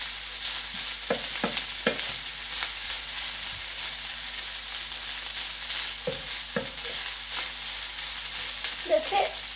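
Rice being stir-fried in a pan to make sinangag, giving a quiet steady sizzle with a handful of short scraping stirs spread across the clip and no talking.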